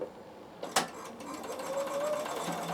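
Bernina sewing machine straight stitching a seam on a winter hat, a sharp click followed by a steady, quiet mechanical hum, close and without talk.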